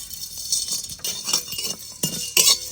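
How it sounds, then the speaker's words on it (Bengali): Whole spices (cinnamon, cardamom, cloves, mace, black pepper, cumin, coriander, fennel) dry-roasted in a pan, with a series of light metallic clinks and scrapes of a utensil against the pan, close and fairly quiet, with no voices. "শুকনো খোলায় কিছু মশলা করে নেবো।"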